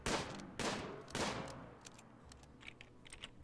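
Gunfire in the RimWorld video game, three fairly loud sharp shots spaced about half a second apart, then quieter scattered pops and clicks.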